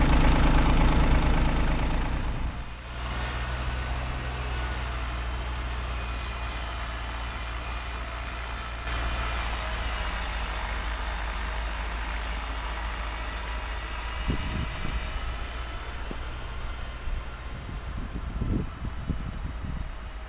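Kubota tractor running with a snowblower attached while clearing fluffy snow from a driveway, a steady low engine drone with a brief louder burst at the start and a few faint thumps later on.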